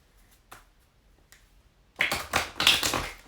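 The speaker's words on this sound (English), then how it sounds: "So I'll pull a couple cards, but first I'll always shuffle them." A burst of rapid papery riffling from shuffling a deck of tarot-style cards, close and fairly loud, after a quiet stretch with a few soft taps.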